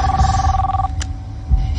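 A mobile phone rings in a tense thriller scene: a steady electronic ring tone cuts off partway through, with low rumbling background noise and a brief sharper sound afterward.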